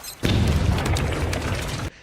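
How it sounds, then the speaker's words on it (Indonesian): A rat rigged as a bomb detonates in a film scene, a loud close boom with rumbling low end and crackling debris that sustains for well over a second before cutting off abruptly. "Dan beberapa saat kemudian ledakan terjadi."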